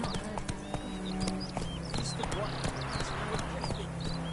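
Roach the horse trotting in Witcher 3, a close, steady clip-clop of hooves on a road, with a voice talking over the rhythmic footfalls.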